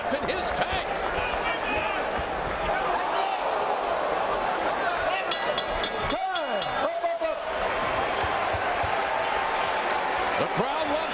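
A crowd at a heavyweight mixed martial arts fight between Dave Herman and Mario Rinaldi, a steady roar of cheering and babble with rising swells and scattered thuds, under continuous commentary.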